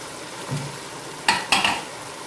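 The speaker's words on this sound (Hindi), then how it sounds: "इस तरह से चावलों को मिक्स करना है ताकि चावल टूटे ना।" Rice being stirred gently in a pot over medium heat for sweet Mutanjan zarda: a soft scrape, then two quick metallic clinks of a spoon against the pot, over a low background hiss.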